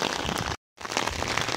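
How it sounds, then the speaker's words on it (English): Heavy rain pours down in a dense, hissing wash of drops, loud and continuous apart from a brief dropout in the middle, with no voices. "Seems like the rain is getting heavier."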